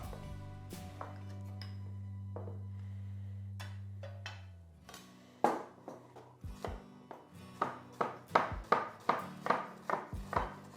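Onion diced with a knife on a board: after a low hum fades, a run of about a dozen sharp, evenly paced chopping knocks builds in speed, close and clear, no talk.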